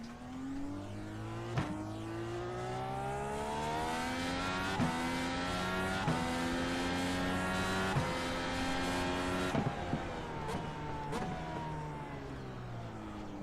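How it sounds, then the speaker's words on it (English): A race car in iRacing on a gentle outlap, its engine droning steadily with rising and falling pitch as it shifts through gears, loud and close, broken by sharp downshift blips and brief tire noise. "I'm gonna take a little chill on the outlap, try to get this car warmed up good."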